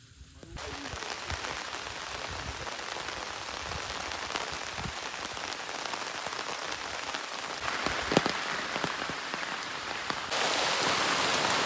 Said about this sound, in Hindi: अरे मूसलाधार बारिश हो रही है।